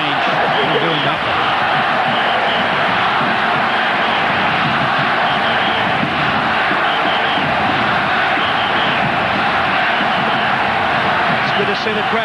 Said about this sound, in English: It's good to see the crowd getting behind the Socceroos.